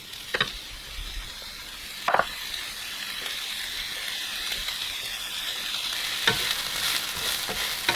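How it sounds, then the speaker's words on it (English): Onion and ginger fry in a heated, greased pan with a continuous close sizzle and hiss, broken by a few sharp scrapes and clinks of a utensil stirring against the pan. "we're going to put in the onion and ginger into a heated greased pan"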